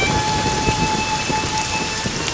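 A sudden rain shower falling in a steady, dense hiss of drops on surfaces, loud and continuous with a faint tonal hum running through it.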